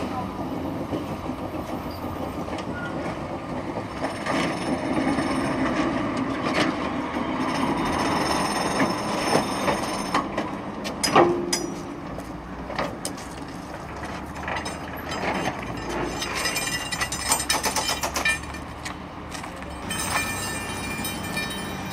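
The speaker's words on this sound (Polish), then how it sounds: "Panie Maćku, a teraz pojedziemy do Krakowa super nowoczesnym krakowiakiem." A modern Krakowiak tram rolling along rails in Kraków, a steady loud rumble with rattling, squealing and clicking mechanical noise throughout the ride, with voices talking faintly in the background.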